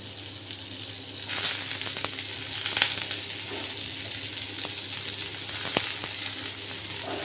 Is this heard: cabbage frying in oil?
yes